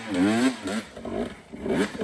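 A 2025 Beta 300 RR Race Edition two-stroke dirt bike with a smart carburettor revs under the throttle, its pitch rising and falling in loud, close sweeps with a brief dip in between.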